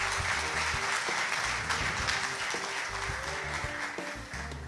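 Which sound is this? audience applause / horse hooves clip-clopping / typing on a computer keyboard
audience applause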